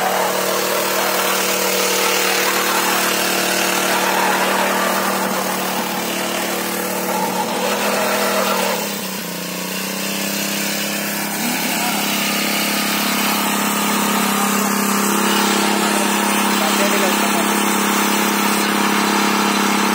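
A single wheel weeder's engine runs steadily in a field near Melur, Madurai, with a loud continuous drone that dips briefly midway, while people talk over it.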